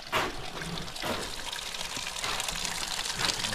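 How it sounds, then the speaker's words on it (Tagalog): Water flows steadily without a break on a construction site where hollow blocks are being laid, a continuous hissing rush with small splashy surges and no talk. "So yung tubig natin ay patuloy."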